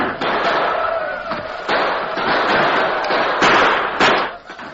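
Radio drama battle effects for a Western story: a loud night-time rifle fight with several sharp gunshot cracks and thuds punching through a continuous din of shouting and commotion.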